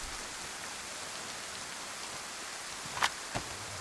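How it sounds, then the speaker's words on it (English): Steady rain in a video game hisses evenly, with a couple of sharper taps near the end. "It is raining though."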